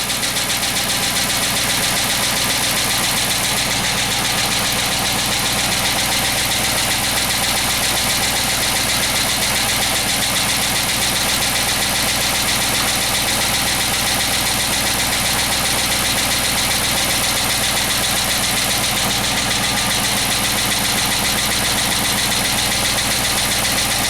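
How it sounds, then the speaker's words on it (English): A Chrysler 300 engine with a cylinder 2 misfire idles steadily for the whole stretch, a constant low rumble with a faint repetitive ticking or knocking from the driver's side bank one running through it, and no talking. "something is knocking on the driver's side of bank one"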